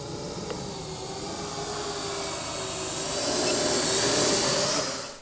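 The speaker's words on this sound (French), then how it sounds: "Et là, le drone arrive." A radio-controlled drone flies overhead after takeoff, its steady whining motor drone broad and continuous, slowly swelling louder as it nears before cutting off abruptly at the end; no one speaks.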